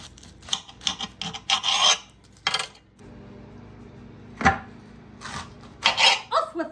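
Knife chopping fennel on a cutting board, close and crisp with irregular bursts of cuts and pauses between them.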